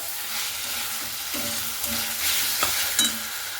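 Potatoes are stir-fried with spices in a pan for a Bengali fish head curry: a steady sizzle sits under rhythmic spatula scrapes and a few sharper clinks against the pan, close up, with no talking.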